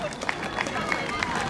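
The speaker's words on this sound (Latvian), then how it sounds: "Sveicam ar aplausiem Latvijas dzelzceļa komandu!" A parade crowd applauds the Latvian Railways team in a steady, dense wash of clapping and cheering, with louder swells recurring every fraction of a second over a murmur of voices.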